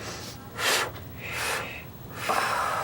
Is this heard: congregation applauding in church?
no